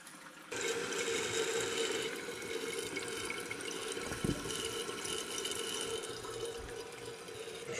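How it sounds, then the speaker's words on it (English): A toilet tank refills through a newly installed fill valve, water rushing and hissing steadily into the tank at close range, with no talking over it. "See it filling. You hear it."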